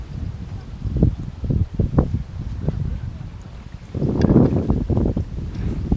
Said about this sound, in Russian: Ну, сильный ветер, нереально так рыбачить.